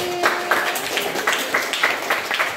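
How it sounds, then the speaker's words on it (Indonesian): Classroom applause for a student named Adi: a small group clapping in loose, uneven bursts of moderate loudness, with a faint tone running underneath. "Oke, tepuk tangan untuk Adi."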